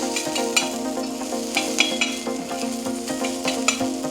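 Onions fry in a pan for mutton paya, with a bright continuous sizzle broken by rhythmic scraping strokes from a stirring utensil, close and fairly loud with no talking.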